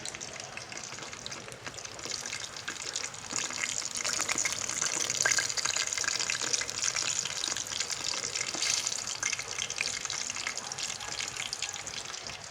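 Fish frying in a pan, a steady loud hiss and crackle of hot oil running throughout with no talk.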